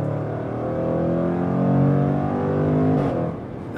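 A 2021 Jaguar F-Pace SVR accelerates hard, its engine note rising steadily with a snarling rasp that drops briefly at a paddle upshift before climbing again, loud and close with no talk.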